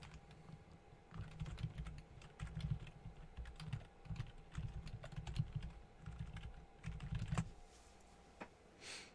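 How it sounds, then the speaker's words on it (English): Typing on a computer keyboard: close, steady bursts of rapid key clicks with short pauses between runs, fairly quiet and with no voices over it. "Sorry if it sounds like I'm being aggressive with the keyboard."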